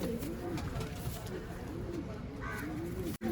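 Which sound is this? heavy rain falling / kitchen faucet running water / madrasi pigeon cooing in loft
madrasi pigeon cooing in loft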